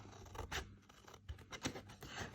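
Scissors snip through paper to cut out a butterfly shape, producing soft, close rasping cuts in an uneven rhythm, quiet and alone.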